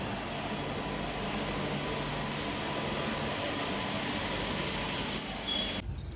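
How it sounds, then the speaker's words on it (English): Steady rumbling hum of a subway train in motion in Beijing, constant and enclosed, with a brief louder rattle near the end. "let's get on the train and make our way to the hotel"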